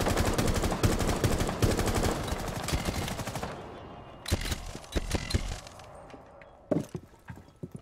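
Rainbow Six Siege gunfire rattles in loud rapid bursts, then breaks into scattered single shots and short volleys with gaps between them, with no voices over the shooting.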